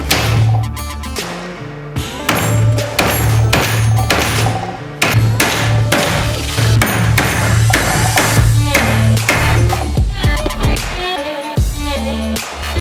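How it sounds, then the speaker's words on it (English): Carriage screws are hammered into a wooden bench being refurbished, with loud, close, repeated metallic strikes in quick bursts, pausing briefly before the pounding resumes and then tapering to a few lighter taps near the end. "when I knock the carriage screws in"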